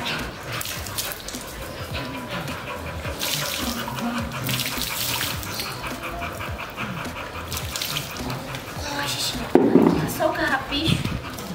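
Tap water runs steadily while a husky is bathed, with talk going on over it and splashing that grows louder near the end.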